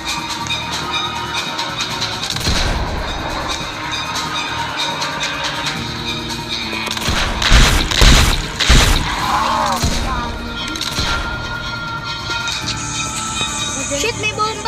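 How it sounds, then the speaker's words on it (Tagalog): Booming explosions and bursts of gunfire from a village raid in the game Dead Trails, a cluster of heavy thuds in the middle, mixed with game sounds and loud voices talking over the action. "may bomba! May narinig ako sa sabog eh"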